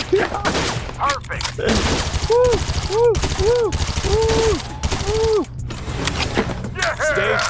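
Rapid bursts of automatic gunfire from guns in a VR shooting game, loud and dense with repeated volleys, mixed with whooshing and rising tonal game effects, with voices talking over the action.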